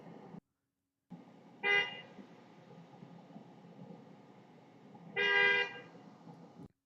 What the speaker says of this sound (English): He honks twice.